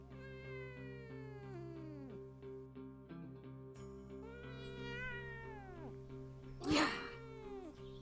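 A small cat meows repeatedly up close, drawn-out tonal cries separated by short pauses, with a sharper rustle or thump near the end and no speech.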